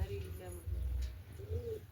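A pigeon coos softly on a rooftop in a few low, murmuring phrases that are faint against low background rumble. A voice is heard nearby.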